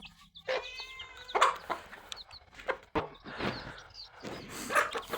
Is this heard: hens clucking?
yes